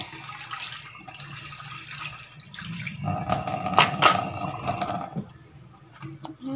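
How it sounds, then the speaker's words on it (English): Water is poured into a pan while cooking a vegan kamongay patty, a short splashing pour that swells in the middle and then trails off, alone without talk. "Add some water."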